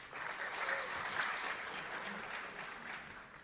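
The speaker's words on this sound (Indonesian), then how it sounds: "Tepuk tangan buat startup Indonesia." An audience at a startup tech conference applauds steadily for a few seconds, a dense, even wash of clapping from a moderately sized crowd with no talk over it.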